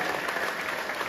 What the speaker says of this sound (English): Let's clap our hands to our parents, learners.